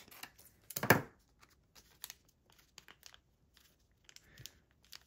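Scissors snip and crinkle paper scraps for a junk journal, with one louder crunchy cut early on followed by scattered small snips and rustles, close and quiet.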